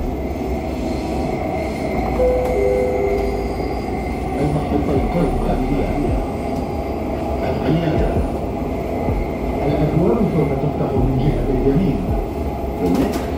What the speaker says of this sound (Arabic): The final destination of this train is Etisalat.